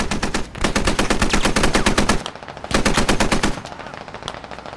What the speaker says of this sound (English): the vehicle taking shots at me!